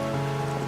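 Steady rain pours down as a man braves the downpour to bring an umbrella, a dense, even hiss close by with a low constant hum underneath and no voices.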